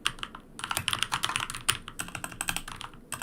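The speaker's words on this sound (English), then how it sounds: "my keyboard doesn't want me to type today" Rapid, uneven clatter of keys on a computer keyboard, close and continuous for a few seconds, with brief pauses between bursts and no talking.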